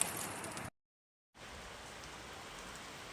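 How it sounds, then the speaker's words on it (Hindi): Steady rain falls through a forest, a dense even hiss that cuts out briefly to silence before resuming at the same moderate level. "जंगल में लगातार हो रही इस बारिश से सभी परेशान हैं।"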